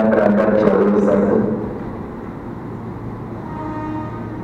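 KRL Commuterline electric train at a station on the Bekasi–Cikarang line, a loud rumbling rush that fades after about a second and a half into a steady lower hum.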